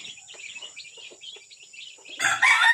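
Rhode Island chickens and roosters near a coop, scattered clucks and chirpy calls at moderate distance, ending in a loud burst of squawking or crowing close by.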